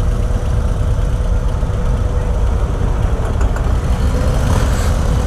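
Harley CVO Street Glide motorcycle engine idling, a loud, close, steady low rumble with a throbbing pulse and no talking.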